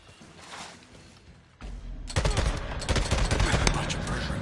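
Gunfire in the Days Gone video game during a firefight with enemies and a sniper: quiet at first, then a sudden heavy burst of rapid shots that rolls on loudly to the end.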